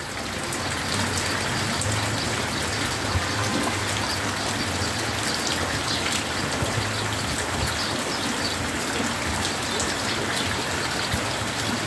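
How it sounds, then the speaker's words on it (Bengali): Heavy monsoon downpour in Bangladesh, a continuous loud hiss of rain on surfaces with dripping and running water throughout. "কিন্তু মুষলধারে বৃষ্টি হয়েই চলেছে।"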